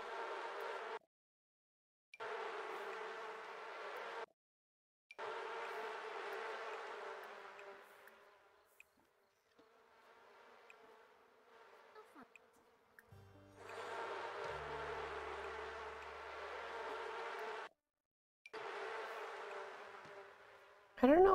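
Bees buzzing in a video game, a steady insect drone that cuts in and out in bursts with silent gaps, fairly faint.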